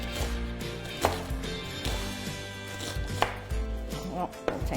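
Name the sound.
knife chopping onion into small pieces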